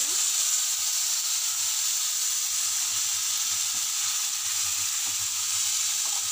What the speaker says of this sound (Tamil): இதோட ரா ஸ்மெல் போகிற வரைக்கும் நல்லா வதக்கிக்கோங்க.